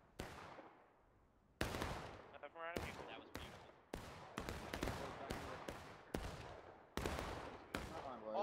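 Repeated musket volleys from a War of Rights infantry battle on the Harper's Graveyard map, a Civil War game: about nine sharp, loud reports at irregular intervals, each followed by a ringing decay, with a brief shouted voice between shots.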